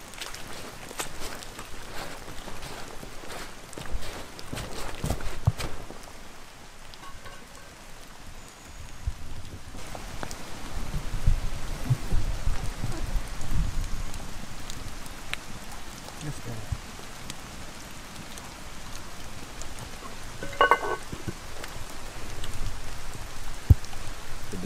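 Steady soaking rain patters on surfaces throughout a wet outdoor build of an Iron Age style roof, with occasional knocks and rustles of work and faint voices at times.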